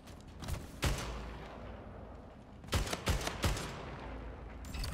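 Gunfire in a shooter video game, with sharp loud single shots and a quick cluster of rapid bursts separated by quieter stretches of background game noise.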